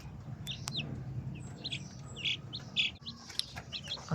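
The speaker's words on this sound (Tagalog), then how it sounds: "Okay, ito naman po yung Rhode Island na mga chicken po." Rhode Island chickens in a coop give short, faint chirps and clucks scattered over a low background murmur, a few calls close together at moderate distance.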